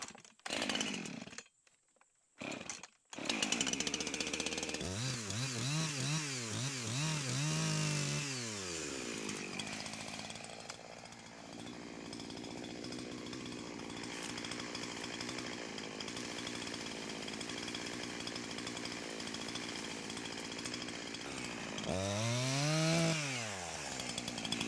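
A chainsaw cuts firewood while clearing an overgrown fence line, the engine running loud and steady throughout, with a short pause near the start and rising revs as the chain bites into the wood.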